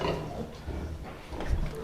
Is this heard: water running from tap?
no